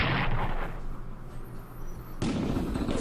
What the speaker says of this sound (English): Defensive artillery again.